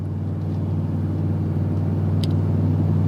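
A Ford 7.3L gas pickup engine drones steadily under load while towing a camper and car hauler up a hill, its deep, even rumble sustained and close with a faint cab hum around it.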